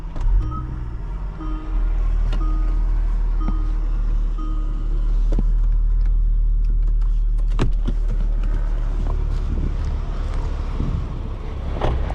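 A 2021 Kia Stinger GT1 AWD engine starts and settles into a steady idle, heard up close from the cabin with a low, continuous rumble and a few faint clicks and beeps over it.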